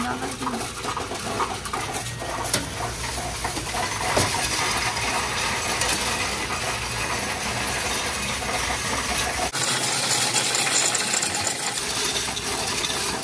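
A Coinstar machine counting pennies, with a loud, continuous clattering rattle of coins tumbling through the mechanism. It runs close and steady throughout, with voices talking in the background.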